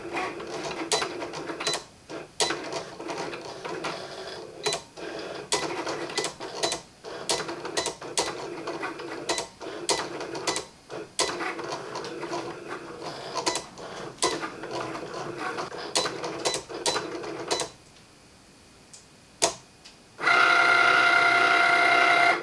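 A Cricut cutting machine drawing an image with a pen, producing steady mechanical whirring broken by rapid clicks and ticks as the carriage moves, close and continuous, then briefly stopping before a higher-pitched motor hum resumes.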